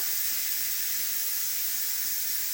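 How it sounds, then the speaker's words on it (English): Steam hisses steadily out of an Instant Pot's release valve after cooking rhubarb, a loud, continuous broadband rush that holds constant throughout with no talking. "I'm going to release the steam."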